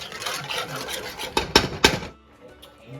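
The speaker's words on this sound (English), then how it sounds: "I'm gonna add in the peas. Okay. That's 1 can." Canned pigeon peas are scraped and tipped from the can into a pot, with a rasping metallic rattle followed by a few sharp knocks, close up, before quiet.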